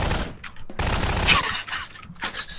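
Gunfire in a Garry's Mod Prop Hunt match: a dense burst of rapid shots crackles loudly for about a second, flanked by quieter scattered shots and game noise, with no talking.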